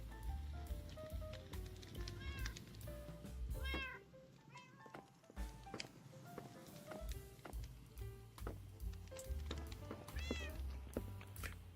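Several nearby meows from a pet cat come in separate bursts across the stretch, some rising and wavering, set against a steady low hum and light indoor clatter.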